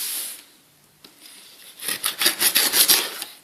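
A blade slices into a cardboard shipping box for computer parts, starting with a few faint scrapes and then a rapid series of close, crisp cutting strokes near the end.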